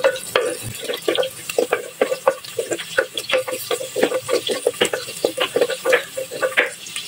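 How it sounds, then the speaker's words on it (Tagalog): Garlic sautéing in a pan gives a steady crackling sizzle with quick bursts of spattering and scraping stir strokes, close and moderately loud, with no talk. "Igisa lang natin."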